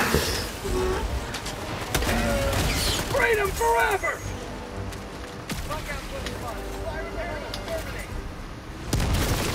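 Grenade blast amid a firefight in the game Helldivers 2, with repeated explosive thuds, mechanical clatter and gunfire while several players talk and shout over the din.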